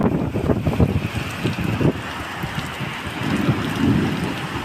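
A Kalbaishakhi thunderstorm over a village pours heavy rain, a dense steady roar with wind buffeting the microphone and low rumbling thunder swelling and fading throughout, loud and close with no voices.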